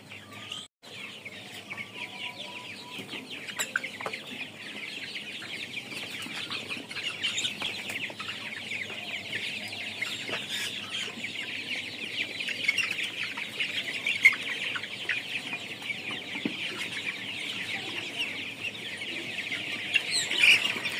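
Around a thousand colour bird meat chickens on a poultry farm make a dense, continuous chorus of clucks and chirps, steady and moderately near, with no one talking.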